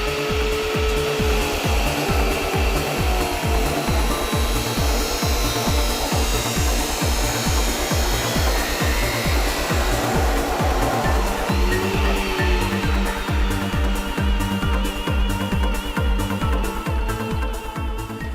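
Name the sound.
welding steel turbo manifold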